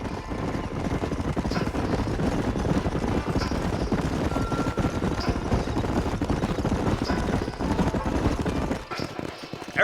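Horses gallop in Red Dead Redemption, a steady drumming of hooves under a dense, loud mix of game sound that runs without a break and drops off briefly near the end.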